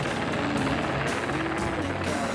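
Helicopters working above a herd of wild cattle in the Australian outback give off a steady, fairly faint rotor chop, a pulsing beat under a broad engine drone, with some faint talk in the background.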